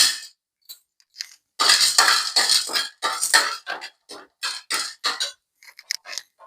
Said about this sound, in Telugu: ఇప్పుడు ఇందులో శనగపప్పు వేసుకోవాలి